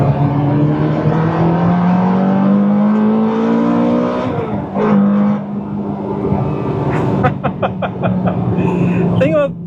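A Ferrari F430 with a P0128 thermostat code being driven on the road, its engine droning and revving steadily up through the gears, loud and close inside the car, with a person talking over it.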